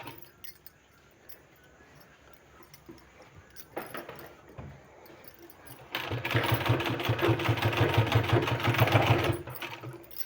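A sewing machine runs close by, stitching a folded sleeve seam on a blouse. Quiet fabric handling and soft mechanical clicks lead into a louder, steady whirring run of about three seconds before it stops.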